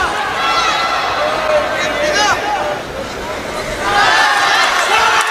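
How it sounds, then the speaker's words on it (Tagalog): Boxing arena crowd at an IBF minimumweight title eliminator bout: a dense, loud roar of cheering and shouting that swells and dips, with voices calling out over the din. "Listen to the crowd."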